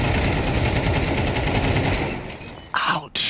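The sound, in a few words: rifle gunfire in Counter-Strike 2 video game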